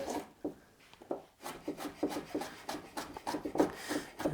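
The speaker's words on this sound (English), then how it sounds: "lengthwise and just chop that up" Kitchen knife chopping broccoli stems lengthwise on a cutting board, a quick series of close, crisp taps and crunches repeating in an uneven rhythm over a few seconds.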